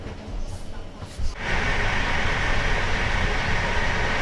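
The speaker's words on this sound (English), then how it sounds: "So we just made it to our seats over here on this beautiful train" A passenger train ride in Poland: a steady broadband rumble and hiss of the carriage in motion fills the clip after a brief thump, loud and continuous, with no talk.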